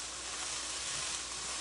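Rice frying in a 12-inch skillet, giving a steady, close, bright sizzle and hiss with no talking.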